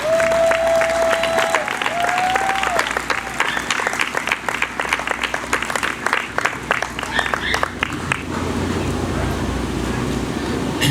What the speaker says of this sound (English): Let's give him a big round of applause, Mr. Jimmy King.